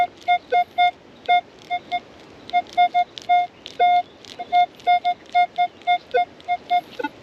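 A metal detector over a deep buried target gives repeated electronic beeps in short bursts, some clipped and some held longer, sounding in an irregular run over faint background noise.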